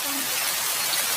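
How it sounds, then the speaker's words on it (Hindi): Heavy cartoon rain makes a dense, even hiss of falling water, close and constant throughout the short moment, with no voices. "इतनी तेज बारिश शुरू हो गई।"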